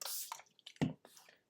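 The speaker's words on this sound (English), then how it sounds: "I'm going to spritz some water onto my craft cardstock." Water spritzed from a spray bottle onto craft cardstock, a few short hissing sprays and soft wet taps, close and quiet with no other sound.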